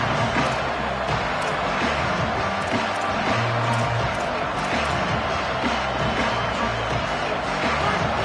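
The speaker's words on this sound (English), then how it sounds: "This crowd, full throat, spreading the eardrums and letting them know it's going to be a long day." A stadium crowd at an Oklahoma football game roars loudly and continuously, a dense wall of cheering that never lets up.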